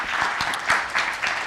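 A small audience claps at a business talk, with steady, dense applause throughout and no voices.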